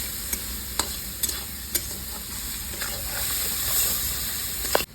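Onions frying with salt in a pan, a steady sizzle with sharp scraping stirs that come at irregular moments and grow louder toward the end, heard alone without talk.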